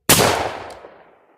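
Colt Walker revolver firing a single loud, sharp shot close by, followed by a ringing echo that fades out over about a second.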